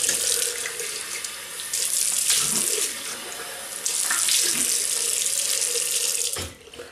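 A bathroom tap runs steadily as a razor is rinsed during a wet shave, with a continuous close hiss of flowing water, brief dips where the stream is interrupted, and the flow cut off near the end.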